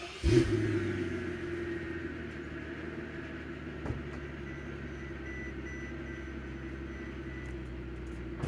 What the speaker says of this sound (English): That's a quick cold start in the W221 S600.